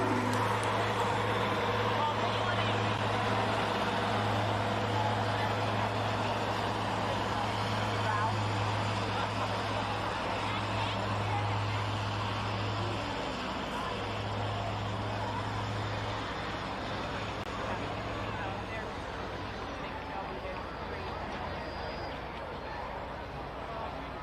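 A 2007 Chevy Duramax diesel pickup pulls a sled at a county fair truck pull, its engine droning steadily and loud with a low pulsing hum, a held whine gradually fading, under continuous announcer-style talk.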